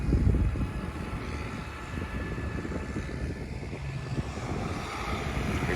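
New Holland tractor engine driving past on a country road near a crossroads church, a loud, steady low diesel rumble that holds throughout with slight swells.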